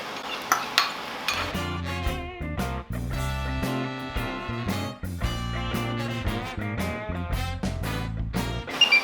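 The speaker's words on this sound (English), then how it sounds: "So now mix this all together. I'm adding this dressing I made earlier." Brussels sprouts being tossed with dressing in a bowl, with repeated clinks and scrapes of utensils against the dish over a bed of tonal background music.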